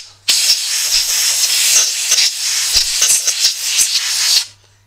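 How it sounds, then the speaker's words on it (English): Compressed air from an air hose blasts loud and close over parts of a Dyna-Glo Delux 50,000 BTU salamander kerosene forced-air heater, a steady hiss that goes on for over four seconds, broken by short gaps and pulses. "I would recommend it, take an air hose"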